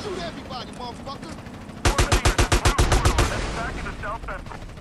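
An AK rifle in GTA San Andreas fires a rapid burst of about a dozen sharp, loud shots in the middle, with people talking before and after the burst.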